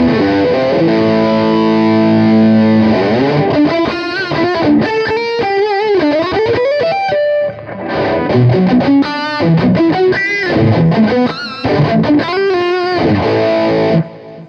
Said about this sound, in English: So then the OCD pushing my lighter distortion on this.